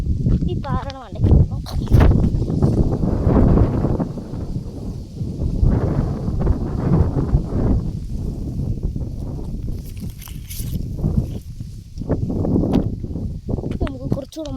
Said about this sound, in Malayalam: ഇവിടെ കാറ്റാ ഗൈസ് മുഴുവനും